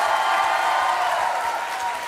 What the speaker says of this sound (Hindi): तो ये तालियां बजती रहनी चाहिए।